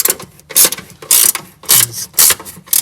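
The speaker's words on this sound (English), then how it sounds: "It's a 10 millimeter, and a little ratchet helps." A small hand ratchet works on a 10 mm bolt inside a cramped Porsche 914 mid-engine bay, giving loud close clicking pawl bursts in a steady back-and-forth rhythm.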